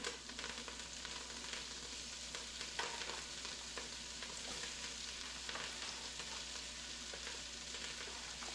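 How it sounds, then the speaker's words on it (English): Salt pork fat renders in a pot, crackling and sizzling steadily and softly throughout, with faint occasional stirring clicks and no voices. "See how the fat's rendering out? See the grease building up in there?"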